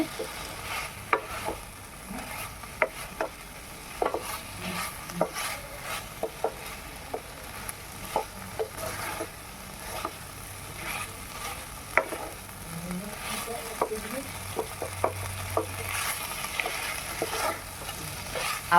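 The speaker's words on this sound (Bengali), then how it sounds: "মশলা আমার প্রায় কষানো হয়ে গেছে" Spice paste for a Bengali jackfruit curry (echorer ghonto) sizzling and frying in a pan, with repeated clicks and scrapes of stirring throughout, steady and close with no talk.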